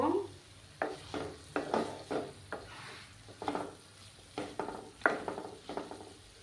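Potatoes frying in a pan for a milk potato dish, stirred with a utensil that gives a series of rhythmic scraping strokes over a low sizzle, close by with no talking.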